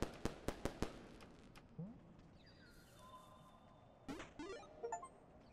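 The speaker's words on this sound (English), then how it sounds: "Does not like the firecracker." Firecracker going off in the video game Animal Well: a rapid string of sharp pops at the start, then whistling tones and a few more scattered bursts later, fairly quiet overall.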